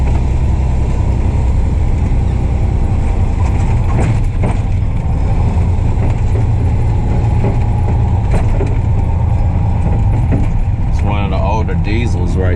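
Diesel vehicle engines rumble on the road, a loud, steady low drone that runs throughout while a person talks over it.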